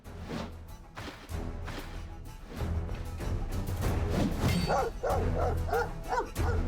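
Dogs barking in the video game Stoneshard amid combat, a run of yipping and bow-wow barks over clashing game audio and music, getting busier and louder toward the end.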